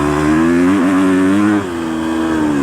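A Husqvarna FC250 dirt bike engine revs hard while riding, a loud, close buzzing drone that wavers in pitch and then drops slightly after a moment.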